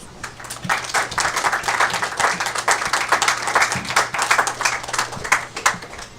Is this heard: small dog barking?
no